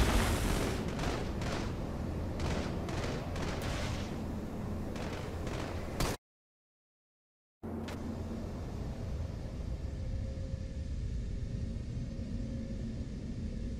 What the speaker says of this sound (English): Bomb planted. Detonation.